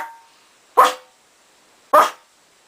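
A person imitates a dog, voicing two loud, sharp bark-like yelps about a second apart, pushed through the nose for a more canine tone, with silence around them.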